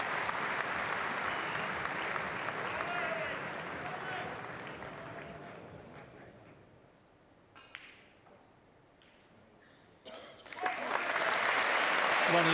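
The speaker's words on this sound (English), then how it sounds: "Listen to the roar from the Alexandra Palace crowd." A large indoor crowd at the Alexandra Palace snooker Masters applauds and roars loudly, fading into quieter murmuring, then a fresh burst of clapping and cheering swells at the end.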